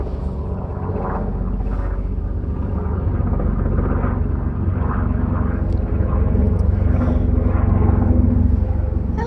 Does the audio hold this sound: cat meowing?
no